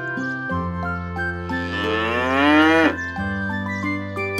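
Cattle in a German children's cartoon moo loudly and close, one long drawn-out call rising and falling in pitch, layered over a steady synthesized musical backing with no talking.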